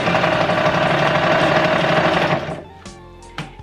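A sewing machine runs steadily for about two and a half seconds while stitching a Christmas pillow cover from fabric a little thick. It then stops, leaving a few faint clicks and brief bursts of handling noise.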